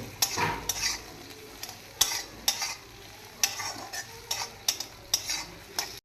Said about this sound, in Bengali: এবার দেবো টমেটো কুচি, দিয়ে এইটা একটুখানি টমেটোটা যতক্ষণ নরম হচ্ছে ততক্ষণ একটু কষে নিতে হবে